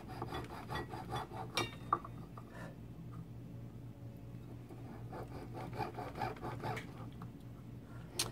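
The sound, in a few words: carving a freeform wax model with a wax blade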